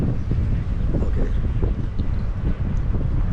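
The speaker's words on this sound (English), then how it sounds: "it's a bit windy now" Wind blowing outdoors, a steady close buffeting rumble against the microphone with uneven gusts that drown out other sound.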